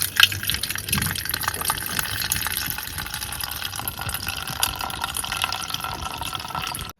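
Settled water gently poured off into a bowl while cooking a traditional Malvani village dish, a steady close trickle and splash of liquid running for several seconds before stopping abruptly.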